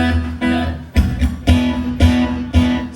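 A song plays with a thick delay echo, its phrases repeating and trailing off in a steady, tempo-locked pulse of sustained tones.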